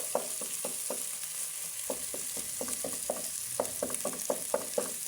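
Fish frying in hot oil at home, more than half a kilo, giving a continuous close sizzle broken by rapid bursts of crackling and spitting, with no talk.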